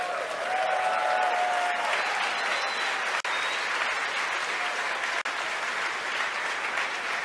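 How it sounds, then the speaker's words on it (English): Sustained applause and cheering fill a launch control room at a SpaceX Falcon Heavy launch, a steady dense wash of clapping with faint voices underneath. "You can hear the applause behind me"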